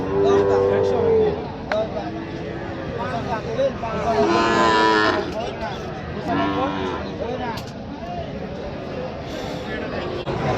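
Cattle moo repeatedly at a busy livestock market selling Sahiwal bulls and calves, several loud, close calls sounding over a steady crowd murmur and market noise.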